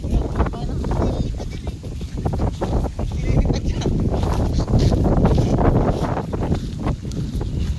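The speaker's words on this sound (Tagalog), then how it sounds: "Lakas ng hangin." Strong gusting wind buffets the microphone continuously while flying a kite, with a roaring, rustling texture, while voices are heard intermittently underneath.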